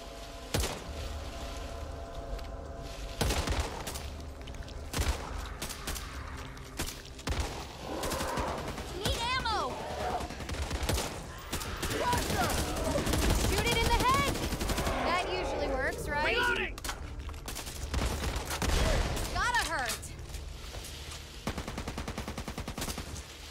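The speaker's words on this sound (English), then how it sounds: "Assault rifle!" Sustained assault rifle fire while battling zombies in Back 4 Blood, long dense bursts of rapid shots with thuds and game effects mixed in, loud and nearly continuous, with some speech-like sounds in the mix.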